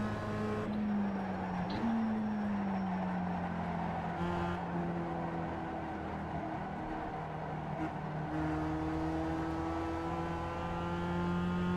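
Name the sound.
race car engine feathering throttle in iRacing video game at Lime Rock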